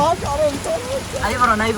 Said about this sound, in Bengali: দেখেন অবস্থাটা দর্শক, কি পরিমাণ বৃষ্টি।